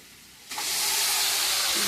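A sudden loud hiss bursts in about halfway through and keeps roaring steadily as chicken is dropped into a very hot pan of fried spices.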